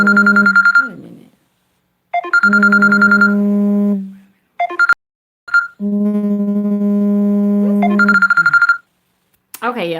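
A mobile phone ringtone plays a repeating melodic tune in bursts separated by short pauses, loud and close, heard on its own without voices.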